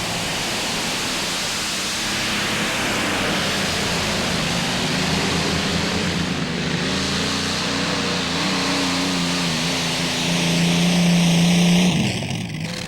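The Top Gun pulling tractor, driven by Tom Bollinger of Taylorville, Illinois, runs on twin 1,710 cubic inch Allison V12 engines making over 4,000 horsepower. Its loud, constant roar fills the whole stretch, swells near the end, then eases off.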